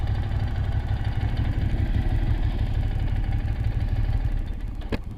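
A Ducati 600SS motorcycle engine runs steadily off-road, a loud, close, throbbing low-pitched drone with a constant rough pulse and no talking.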